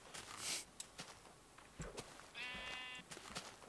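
A single sheep in the video game Minecraft gives one short, fairly faint bleat, set among quiet shuffling and small clicks.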